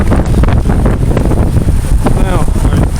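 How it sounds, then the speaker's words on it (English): Strong wind gusts sweep a city street near Merchants Quay in Cork, buffeting the microphone with a loud, uneven rumble that surges and dips over a few seconds. "Getting very windy now."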